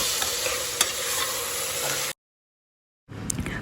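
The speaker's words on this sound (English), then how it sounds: "And now I'm adding in some ginger garlic paste and just give it a good mix" Ginger garlic paste is stirred into pilau in a pot, with a steady sizzling frying hiss and scraping stirs that cut out briefly to silence, then resume at the end.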